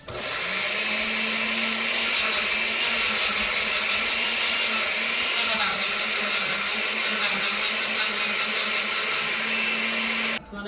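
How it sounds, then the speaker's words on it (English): Kitchen blender whirring continuously for about ten seconds as it purees minced garlic for turkey wing gravy, a loud steady motor whine close by that cuts off abruptly at the end. "I'm also adding minced garlic, and I'm gonna blend that on up."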